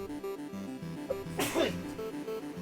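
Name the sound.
sneeze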